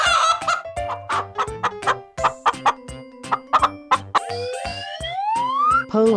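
Short, quick chicken clucks pop over a cheerful children's tune with a rising whistle tone, loud and close.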